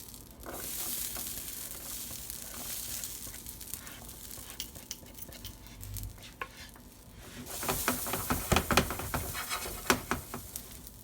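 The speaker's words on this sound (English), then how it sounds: "Now we're going to add the potatoes." Potatoes fry in a pan that earlier held onion, garlic and peppers, with a steady close sizzle that grows louder near the end, broken by scraping and stirring sounds.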